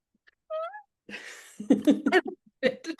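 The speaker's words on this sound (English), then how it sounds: "my cat was meowing" A short, high cat meow sounds once, then a person talks and laughs softly nearby.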